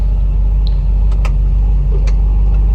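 A 1965 Ford Mustang with a 289 V8, bored 30 over and fitted with a mild cam, runs at a steady loud low rumble nearby, with a few faint clicks over the drone.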